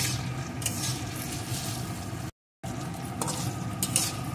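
Chopped tomato being stirred into fried cauliflower in a pan, with a steady close scraping and sizzle throughout, broken by a brief silent gap midway.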